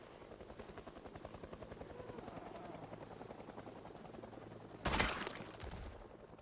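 Helicopter rotor chopping steadily in a video game, a fairly faint rhythmic thumping heard alone, broken near the end by a short loud burst.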